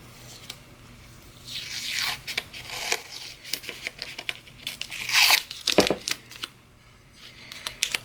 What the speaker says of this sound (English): So I'm going to take another piece of tape here.